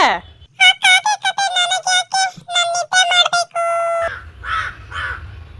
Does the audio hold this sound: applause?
no